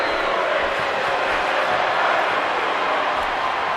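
A wrestling crowd cheers and rallies behind Enzo during a tag-team match, a continuous loud roar filling the arena with a faint commentator's voice underneath.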